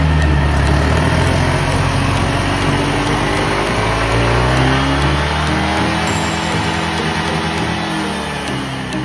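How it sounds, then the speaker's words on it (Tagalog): A small affordable motorcycle engine runs loud and steady close by, its tone rising and falling as it revs, with no talk over it. "hindi na talaga ako makapaghintay na marinig yung tono ng motor na to. Kaya eto, revolution na talaga"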